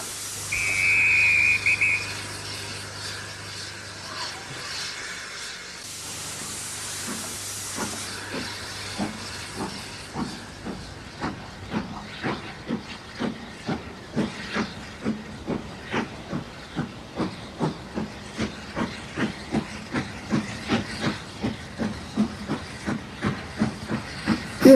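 A model railway steam train gives a short whistle over hissing steam, then its rhythmic chuffing rises steadily and grows louder as it passes over a bridge.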